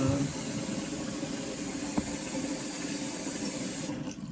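Tap water pours steadily into a dirty pot in a home kitchen, a broad continuous rushing hiss lasting the whole stretch, with one small knock midway and the flow easing at the end.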